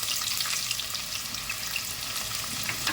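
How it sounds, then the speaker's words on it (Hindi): Cumin, black pepper and onion frying in hot oil in a cooker, a steady close sizzle with a dense crackling hiss that holds evenly the whole time, no voices. "ऑयल भी मेरा अच्छे से गर्म हो चुका है। जिसके अंदर मैं अभी ये ज़ीरा, काली मिर्च और प्याज ये सब एक साथ डाल दूँगी।"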